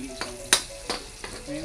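Whole garlic cloves fried in a pan for batchoy, with several short bursts of stirring and scraping over a low sizzle, close and moderately loud.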